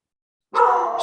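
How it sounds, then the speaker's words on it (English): A pet dog barks suddenly and loudly indoors, a single excited bark sustained for about half a second after silence, close to the microphone. "Sorry about my dog."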